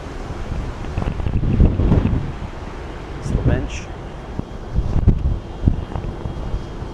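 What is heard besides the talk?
wind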